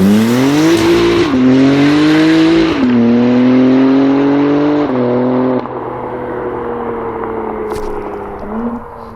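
A BMW M2 G87 with a titanium equal-length exhaust revs hard and climbs through gears during a launch, exhaust roaring with pitch rises and drops at each shift.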